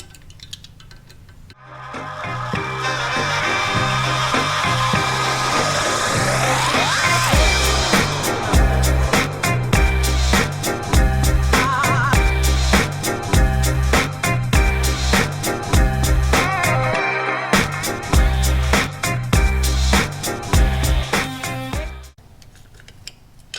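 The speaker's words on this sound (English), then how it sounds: "you're going to start off by removing all 4 of the end cap screws." Power driver with a T20 Torx bit backing out the end cap screws on a Two Brothers Racing Comp-S exhaust silencer, a long loud whirring run broken by rapid ticking clicks, with short pauses between screws.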